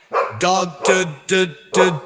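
A dog barks four times in a steady rhythm, close and loud, as a sound effect in a children's alphabet phonics song, with no talking over it.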